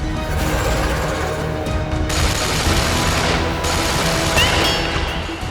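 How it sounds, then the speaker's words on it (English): Rapid gunfire from a comic-book battle scene, bullets ricocheting off a rocky hero, as a dense sustained burst of shots and crashes fills the whole stretch at steady loudness, with no talking. "Bullets bounce off the Thing, while Carnage lets out a sinister laugh"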